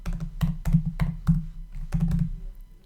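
Someone types code on a computer keyboard at close range, bursts of sharp clacking keystrokes in quick uneven clusters with short pauses between them.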